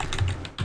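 A few quick keystrokes tapped on a computer keyboard while entering a network scan command, close and fairly soft, in two short bursts with a brief pause between them.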